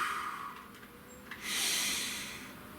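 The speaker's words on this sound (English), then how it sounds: "Please take a nice deep breath." A slow, deep breath drawn in and let out during a quiet guided meditation, a soft airy rush swelling to its fullest at the midpoint and fading, close and alone with no talk.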